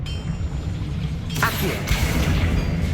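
Explosive Bombarda and Confringo spells in the Hogwarts Legacy video game go off over a low steady rumble, with a sharp blast burst partway through followed by clanging, crashing debris.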